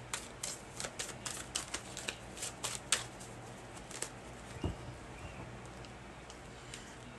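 Tarot cards being shuffled during a reading, a quick run of crisp papery flicks and taps followed by quieter, sparser handling noises, close and soft with no talk.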